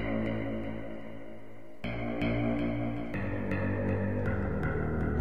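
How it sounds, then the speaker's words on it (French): Sustained, droning tones from a Reason Maelstrom synthesizer run through a delay and Cubase reverb, with repeated sharp re-attacks every second or so and long echoing tails that layer into a dense, ominous pad. "si je place un delay sur ce Maelstrom-là, on pourra entendre que le delay va être effectif, tout comme le reverb de Cubase"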